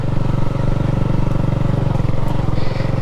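A Honda CB250RS motorcycle climbing a slippery hill on a green lane, its single engine thumping in a loud, steady rhythm close by with revs held up.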